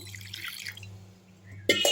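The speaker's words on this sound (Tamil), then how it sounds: "அதிலே வந்து கொஞ்சமாக வந்து தண்ணி ஊற்றிக்கலாம்" Water pours and drips into a grinder jar of coconut chutney, a steady trickle with a hum underneath, ending in a louder splash of liquid.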